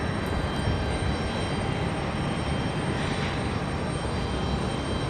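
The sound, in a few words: airplane departing from Raleigh Durham airport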